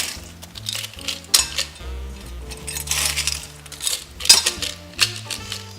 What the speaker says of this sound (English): So you shake it with ice, and we're going to wet shake.